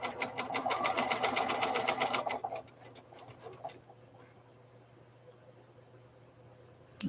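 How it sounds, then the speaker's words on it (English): A sewing machine stitches the center seam of a charity charm quilt in a fast, even run for about two seconds, then stops, leaving near quiet broken by a few light clicks. "we're going to sew that center seam"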